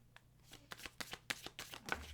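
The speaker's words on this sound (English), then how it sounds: "These cards are big and they're kind of hard to shuffle." Large cards riffle and slap in quick bursts, a series of soft, uneven shuffling strokes heard up close and fairly quiet.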